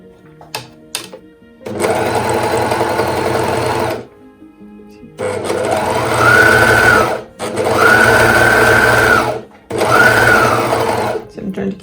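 A sewing machine stitches skirt fabric in several loud, close bursts separated by short pauses, the motor pitch rising during the longer runs.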